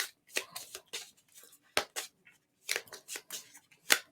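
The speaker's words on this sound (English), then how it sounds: "Let me shuffle these a little bit." Cards from a Fantastic Factories board game are shuffled by hand in a quick series of soft riffles and papery slaps, fairly close and quiet.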